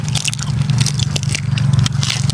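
Close, wet crunching and chewing of spicy pounded cuttlefish salad, steady and continuous, with crisp bites of squid and squishy mouth noises right at the microphone.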